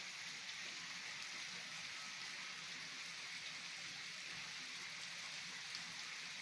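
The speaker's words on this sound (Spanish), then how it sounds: "Escuchen cómo cae el agua." Water falls naturally from a mountain stream with a steady, broad hiss of rushing flow, faint and constant throughout with no voices.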